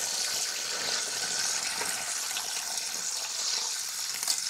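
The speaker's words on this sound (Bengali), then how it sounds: "এখন পাট শাকটা একটু ধুয়ে নেব।" Kitchen tap water runs steadily while jute leaves are washed, making a continuous hissing splash that stays even and fairly close throughout, with no voices.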